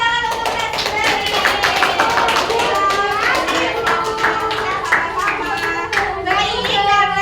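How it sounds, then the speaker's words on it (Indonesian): Classroom applause for a student: a burst of brisk, dense hand clapping from a group, fairly close and steady for several seconds, with children's voices mixed in underneath. "Oke, tepuk tangan untuk Nesri"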